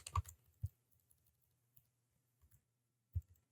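Typing on a computer keyboard, a few sparse, faint clicks and taps spaced irregularly across near-quiet, close by and with no voices.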